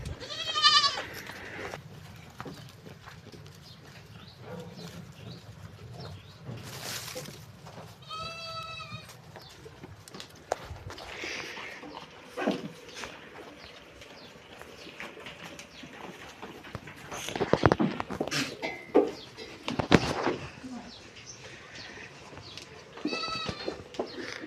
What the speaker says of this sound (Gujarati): આ કાળી બકરી ગીદેડી